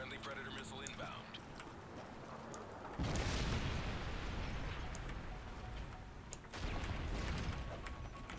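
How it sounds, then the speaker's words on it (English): A predator missile explosion from Call of Duty MW3 video game: a broad rumbling blast erupts over steady battlefield noise, followed a few seconds later by a second heavy impact, with no talk over it. "Friendly predator missile inbound."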